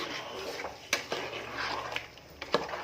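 A spoon stirs tomato rice in a cooking pot, quiet scraping with a few light metallic clinks against the pot's sides, close and soft.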